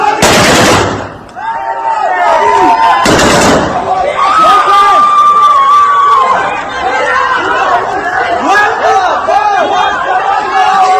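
Noisy crowd of street protesters in Iran, with a dense mass of chatter and shouting running throughout, punctuated early by two sharp loud bangs.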